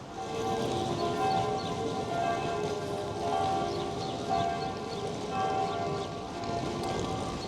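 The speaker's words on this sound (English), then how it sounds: "You can hear the bells ringing in the air." Church bells ring steadily in the open air of a mountain village near the Matterhorn, their sustained metallic tones overlapping continuously at moderate distance, with no talking.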